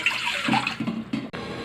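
A glass of water pours into a cooking pot in a few splashy gushes, close and fairly loud, ending with a quick stop.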